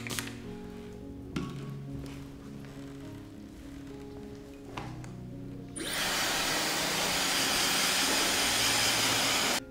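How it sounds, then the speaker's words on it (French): Hair dryer blowing on hair during a French-style hairstyling session, starting after about six seconds as a loud, steady broadband rush that holds to the end, preceded by quieter tonal background sounds. "je vais venir utiliser un sèche-cheveux pour sécher le produit"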